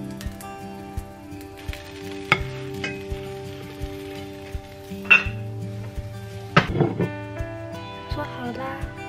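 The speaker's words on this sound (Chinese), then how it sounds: "我一般还会再用刚刚煎鸡蛋的油，" A low-calorie snack fries in a pan in egg-frying oil, a faint sizzle broken by sharp clinks of utensils and cookware, with someone talking over the cooking.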